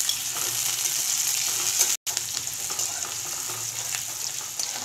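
Chopped onion with a pinch of salt sizzles in hot oil in a home kitchen, a close, continuous crackle with a brief dropout midway, then the frying resumes as before.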